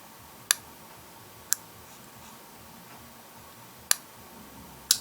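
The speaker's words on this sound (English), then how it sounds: "Let's listen to the click again." Safe lock on a Sitivien ST801 folding pocket knife snapping shut, four sharp isolated clicks spaced unevenly over a few seconds, close and crisp against a quiet background.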